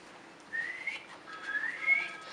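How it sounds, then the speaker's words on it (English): A boy's shrill whistling, driving sheep out of a kraal, sounds in a few short, piercing bursts over a quiet, slightly noisy background. "Malusi's shrill whistling drives the sheep out of the grandfather's kraal."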